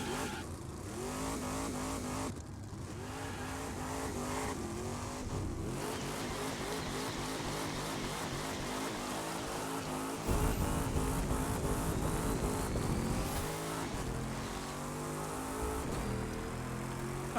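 Race cars roaring through a street event in The Crew 2, with continuous high engine revving, gear-shift drops and rising pitch, plus passing traffic and brief tire noise, steady and close throughout.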